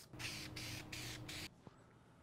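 Lacquer finish sprayed from a can onto a carved wooden snowflake ornament: three short, quiet hissing bursts in quick succession, followed by a small click.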